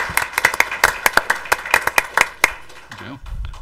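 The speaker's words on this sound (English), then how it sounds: "I appreciate a round of applause." A township board meeting audience claps for about three seconds, a round of applause recognizing supporters, with the sharp irregular claps fading out near the end as a low voice begins.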